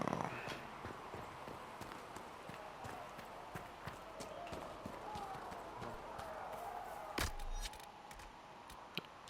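Steady horse hoofbeats in the video game Dragon Age: Inquisition clip-clop in a quick, regular rhythm, with a faint background hum and occasional sharper clacks.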